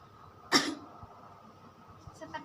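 A woman coughs once, a single short burst during a chest physiotherapy session, fairly close and alone in a quiet room, followed by faint rustling and a softer breathy sound near the end.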